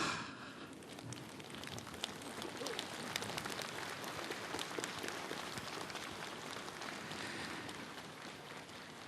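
A large assembly of Buddhist monks at a nationwide gathering applauding together, a faint, dense, steady wash of many hands clapping heard from a distance with no voices.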